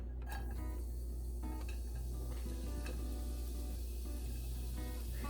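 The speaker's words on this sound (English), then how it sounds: "Now that my oil has heated up on medium heat for about a minute, I'm going to add my vegetables." Chopped vegetables and apples sauteing in oil heated on medium in a pot, a continuous close sizzle with occasional clinks and stirring scrapes, no speech.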